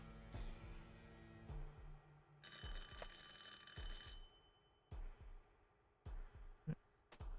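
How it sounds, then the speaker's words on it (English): A doorbell rings inside a quiet flat in the visual novel Everlasting Summer, a bright sustained chime lasting about two seconds over soft background music, followed by a few faint clicks. "The silence of my flat was disturbed by the ringing of the doorbell."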